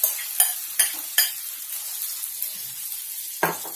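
Diced potatoes and chilies frying in a tempering (bagar) in a pan, stirred: a steady sizzle underneath a few sharp scraping stir strokes early on and another near the end, close and fairly loud, with no talking.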